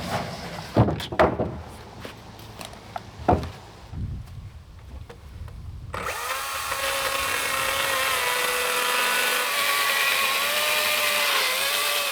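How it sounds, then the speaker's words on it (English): A power saw cuts lumber blocking for rafter bays into four-foot lengths, a few sharp knocks and handling noises first, then a loud sustained whining cut that holds steady to the end. "I started by cutting them into 4-foot lengths that will be more manageable"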